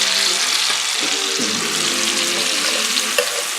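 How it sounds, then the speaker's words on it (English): Chopped celery sizzles in a hot quality pot or skillet while being stirred, a loud continuous close-up frying hiss with soft scraping movements throughout. "Celery. Going to stir it."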